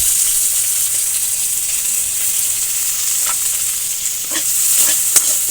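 Onions with green chillies frying in mustard oil, a steady bright sizzle throughout with a few sharper crackles and pops near the end, close and fairly loud, no talking.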